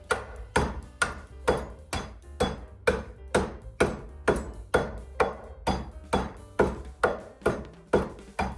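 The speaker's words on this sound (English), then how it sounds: "I needed some more ice for the thumbnail, so I figured I'd show you how to do it" Repeated heavy wooden mallet thuds strike ice in a steady rhythm, about two blows per second, each with a crunchy crack, close and loud.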